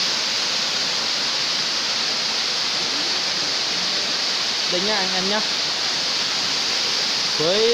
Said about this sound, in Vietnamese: Suối đây thì suối này suối trong xanh nhá, uống được nhá.